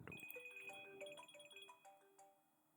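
A phone ringtone plays a quick, faint electronic melody of bright chiming notes, with no voices, fading toward the end.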